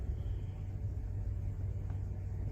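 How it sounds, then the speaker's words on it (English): A car engine idles with a steady low rumble, filling the background evenly and without any distinct start-up burst; no one speaks. "I'll start up the vehicle."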